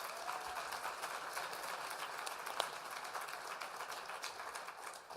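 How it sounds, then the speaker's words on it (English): A symposium audience at a diabetes technology conference gives a round of applause, a faint, continuous patter of many hands clapping at some distance, steady throughout with no voices over it. "let's give them all another round of applause for their incredible initiatives"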